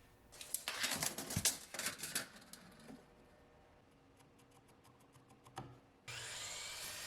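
A saw cuts angled lengths of wooden baseboard, giving a burst of rough rasping and grinding, then quieter scattered clicks and taps, before a steady whirring hum starts near the end.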